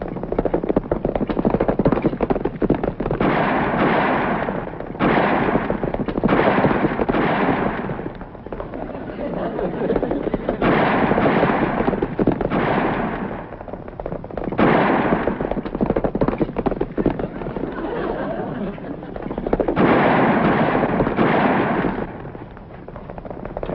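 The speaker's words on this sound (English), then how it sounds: "We're chasing some fellas. They shooting at us." Gunfire crackles through a chase in a black-and-white western film, with repeated loud broadband bursts of shots layered over a continuous busy soundtrack across the whole stretch.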